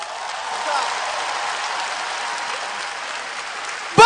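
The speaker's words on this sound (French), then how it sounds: "Du bruit pour monsieur Ahmed Silla" A comedy show crowd at an exhibition hall in Abidjan applauds in a dense, steady wash of clapping that holds for several seconds, with a sudden louder burst at the very end.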